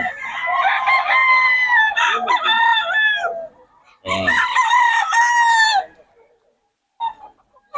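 Chickens and roosters at a farm in Bocaue crow loudly and up close, two long overlapping crows separated by a short gap, with clucking around them and a faint bit of talk near the end.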